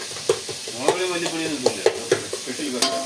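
Onions sizzle steadily as they brown in a pan for a sardine curry, with a utensil stirring and scraping in regular close taps over the continuous frying hiss.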